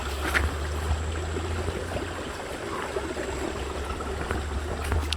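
A mountain stream on a rocky trail spills over stones, a steady close rushing and gurgling that continues unbroken throughout, with no talk.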